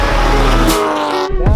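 A single-turbo E92 BMW 335i engine revs hard and loud, a steady droning pull that holds for over a second before a quick shift-like break and renewed surge.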